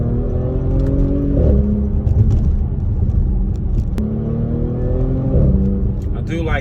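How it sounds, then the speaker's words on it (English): A stock-exhaust Audi S5 3.0 TFSI with catalytic converters rumbles on a test drive, engine tone rising and shifting through gear changes as someone talks over it. "The exhaust is fully stock, still catalytic converters there, but I still do the lovely noise."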